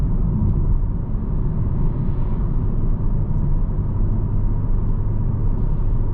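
A 2025 Kia K5 GT cruises at speed on a smooth road, filling the cabin with a constant low rumble of tire and road noise and passing oncoming traffic, steady and fairly loud with no talking.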